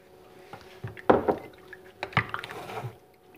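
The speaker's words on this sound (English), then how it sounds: "One-third cup of the shaoxing cooking wine." Shaoxing cooking wine is poured into a cooking pan, giving a short liquid splash and gurgle with a few drips, close and moderately loud.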